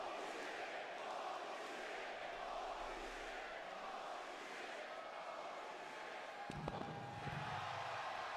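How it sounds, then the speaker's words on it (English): Wrestling arena crowd at a live WWE Raw event, a dense, steady roar of many voices chanting together throughout, with a brief sharper burst of noise near the end. "This crowd chanting, holy shit."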